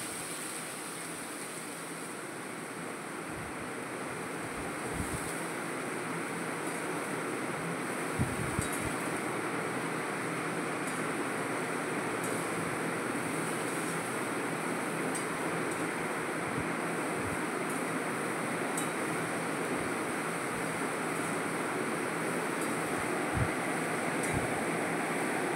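Taro (arum root) pieces frying in hot oil in a pan, a steady broadband sizzle with faint crackles, continuous and fairly close, with no talk over it.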